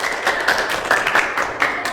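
A classroom of schoolchildren gives a round of applause, uneven clapping heard close by with a few sharper, louder claps rising out of the steady patter.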